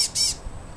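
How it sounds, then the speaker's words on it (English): Several birds in a small group give two short, bright squawking calls close by, then only faint background noise follows. "Why is there like 10 birds?"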